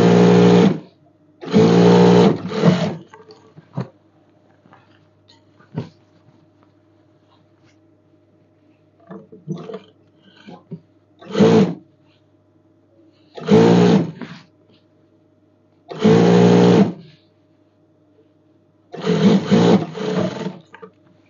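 A tailor's sewing machine stitches a kandura night dress in repeated short bursts of a few seconds each, separated by quiet gaps with faint handling noises, close and clear.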